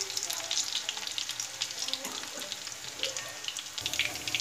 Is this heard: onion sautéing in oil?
yes